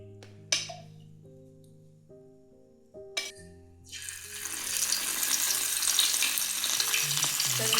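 Oil begins sizzling loudly on a hot griddle after a few clanks and a hum, amli fish frying, the hiss building and holding steady to the end.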